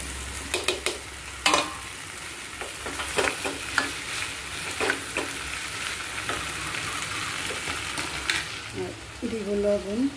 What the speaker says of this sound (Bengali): এখন আমি এই যে ঢেঁড়স ভাজি ছেড়ে দিব।